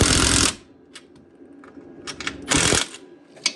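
A Milwaukee impact driver on a middle setting snugs bolts during a plow install on a Yamaha Grizzly ATV, with two loud, close hammering bursts, one short and one shorter, separated by quieter shop noise.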